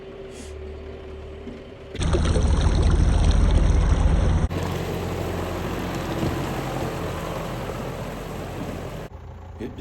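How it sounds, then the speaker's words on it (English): A big farm tractor rolls down a county road, its engine a loud, steady roar with harsh broadband noise that shifts abruptly in tone as the drive goes on. "the engine noise of this tractor"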